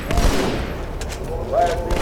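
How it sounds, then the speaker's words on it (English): Gunfire from the video game Halo 2 comes as dense, loud, bassy bursts that run through the whole short stretch, with voices talking over it. "Halo sounds like real guns."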